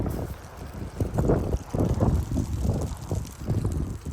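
Gusty outdoor wind in Frisco, Texas, reaching about 40 mph, blows in rough surging bursts of microphone buffeting that rise and fall several times, close and fairly loud.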